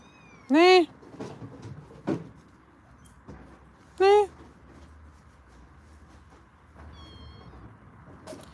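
Bottle-fed kittens give two loud, high meows a few seconds apart, with quiet shuffling and soft knocks in between.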